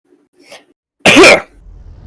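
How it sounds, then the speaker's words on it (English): A single loud, sharp cough bursts out abruptly after a faint murmur, then quickly fades into quiet background. "That was a cough."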